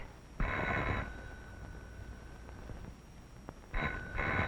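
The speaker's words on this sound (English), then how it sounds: "I think I hear your doorbell ringing." A doorbell rings in a house in two bursts of a sustained electric bell tone, the first about half a second long and a second pair near the end, loud and close with quiet between.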